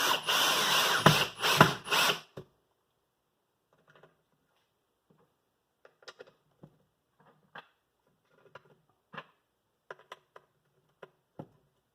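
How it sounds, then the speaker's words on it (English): During a pool pump impeller shaft seal replacement, a power driver runs loudly for about two seconds while driving screws into the pump housing, followed by faint, scattered clicks and taps. "So I'm just going to continue putting the screws in."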